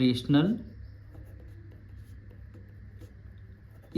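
A pen scratches out a handwritten maths solution on paper, a faint steady scraping that follows a short burst of close talk at the start.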